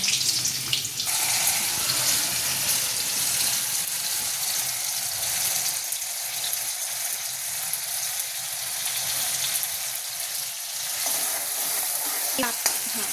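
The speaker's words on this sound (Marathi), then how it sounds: "ते पहिले गरम पाणी करायला ठेवतात आणि त्या गरम पाण्यामध्ये मसाला तळून घेतात, थोडं थोडं पाणी टाकून" Masala fries in hot water in a pan for a hotel-style matki usal, giving a continuous close, loud sizzle with bubbling and stirring scrapes; a brief splash near the start and a sharp clink near the end.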